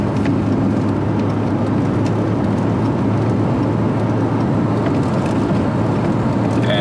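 A 31-year-old Volvo 240 at about three-quarter throttle on a highway, shifting from second into third, gives a constant, loud in-cabin engine drone with road and wind roar and no talk.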